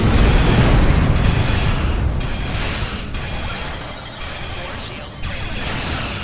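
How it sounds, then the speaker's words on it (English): Heavy booming blasts and mechanical rumble as a torpedo spread fires and explodes in the space combat game Star Trek Online, with loud repeated impacts fading and swelling over several seconds. "Fire another spread of torpedoes. Fire!"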